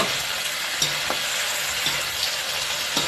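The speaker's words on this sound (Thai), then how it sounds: "ผักคะน้าลงไปผัดล้วนๆนะครับ ให้เขาหอม" Chinese kale is stir-fried in a wok over high heat, a steady loud sizzle broken by several sharp scrapes and tosses of the spatula, close by with no talking.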